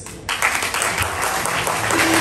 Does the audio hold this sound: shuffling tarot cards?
no